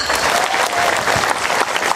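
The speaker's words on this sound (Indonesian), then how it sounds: "tepuk tangan untuk eksa" Congregation at a Sundanese religious lecture breaks into sustained, dense clapping, loud and continuous for the whole stretch.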